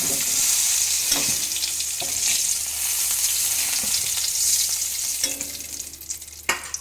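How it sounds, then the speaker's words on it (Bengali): Continuous sizzling of potatoes frying in hot oil, with occasional clinks and scrapes of a utensil stirring the pan. "এবার ভেজে নেব আমরা আলুগুলো। ওই একই তেলে আমরা ভেজে নিচ্ছি এটা।"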